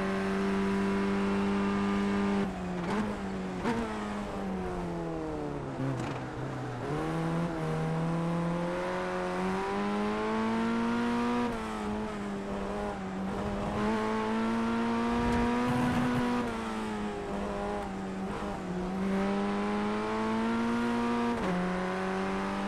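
Engine of a Formula Ford racing in wet conditions at Okaya in iRacing, a steady droning engine whose pitch rises and falls through gear changes and clutch dips, continuous and fairly close with no talk.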